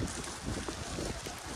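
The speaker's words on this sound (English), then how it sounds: "It's windy up here." Strong wind buffets the microphone atop Pulpit Rock in Norway, a continuous loud rushing roar with gusty low-end swells and no voices.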